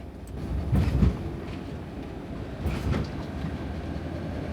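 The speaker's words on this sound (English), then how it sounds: "apart from the noise when the van goes over where the carriages join" A steady low rumble of a van aboard a moving train, broken by two heavy thudding bumps a couple of seconds apart as it rolls over the joins between carriages.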